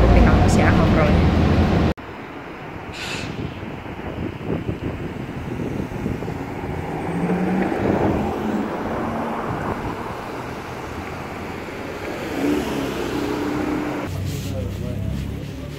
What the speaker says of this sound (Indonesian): Ini udah di dalam bis